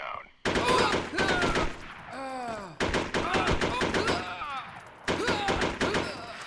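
Bursts of AKS-74 rifle fire in the video game SOCOM U.S. Navy SEALs, sharp rapid cracks in several clusters, mixed with in-game voices and other effects.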